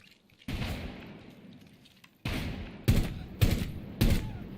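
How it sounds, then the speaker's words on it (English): Heavy gunfire thuds from a gun in the video game Rainbow Six Siege: one long booming burst, then several short sharp shots in quick succession, loud and close. "if you listen to the gun there, it was a thudding"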